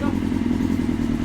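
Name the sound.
1996 Suzuki GSX-R 750 SRAD engine running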